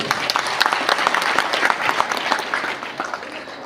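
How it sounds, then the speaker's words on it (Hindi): A stage audience at a business event applauds, a dense steady patter of many hands clapping at once, loud and close, with a little background voice mixed in. "मेरी प्यारी सी टीम के लिए एक बार जोरदार तालियां।"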